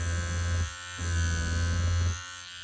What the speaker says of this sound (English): I don't know if I want to shave the mic.